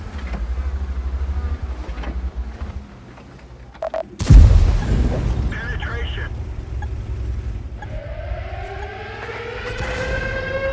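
Artillery fire in World of Tanks, a sudden heavy boom landing mid-clip after a quieter lull, followed by rumbling engine noise and rising tonal game sounds.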